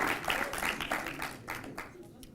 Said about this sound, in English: You should give her applause.